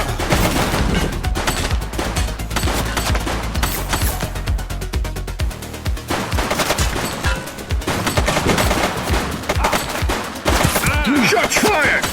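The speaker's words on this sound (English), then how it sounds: "Shots fired!" Dense bursts of gunfire in a police video game, sustained volleys of shots firing rapidly and loudly throughout, one continuous barrage with only brief dips between bursts.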